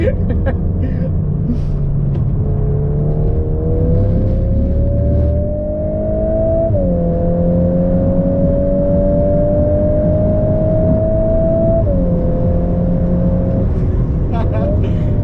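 A VW Golf R Mk8 accelerates hard around Goodwood Motor Circuit. Its loud engine note climbs steadily, drops with an upshift, climbs again and shifts once more, over constant road and wind roar.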